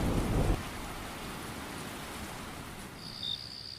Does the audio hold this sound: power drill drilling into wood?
no